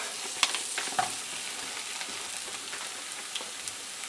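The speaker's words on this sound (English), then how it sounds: "Lamb into the pan." Ground lamb fries in a hot pan, a steady close hiss of sizzling with occasional light clicks and scrapes as it is broken up and stirred.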